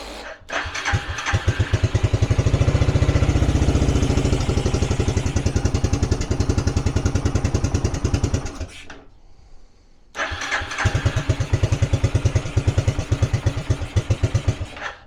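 A Suzuki LT300E ATV, running cold without a choke and on almost no fuel, chugs with a loud rapid engine beat that nearly dies, goes quiet for about a second, then catches and pulses unevenly again.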